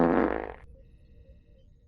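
A loud, close fart with a buzzy, rumbling tone, lasting about half a second and then cutting off into near silence.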